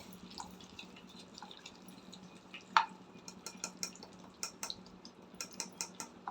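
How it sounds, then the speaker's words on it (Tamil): Roasted gram (pottukadalai) being stirred into hot ghee in a pan, with scattered light clicks and taps from the spoon and grains, irregular and close, over a quiet background. "பொட்டுக்கல்லையை சேர்த்து இந்த நெய்லேயே வந்து கொஞ்சம் நல்லா கலந்து விடுங்க"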